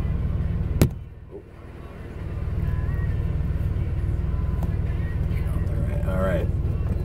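A 1981 DeLorean DMC-12 pulls off in Billings, Montana, with a steady low engine rumble and road noise running throughout, opened by a sharp thump near the start.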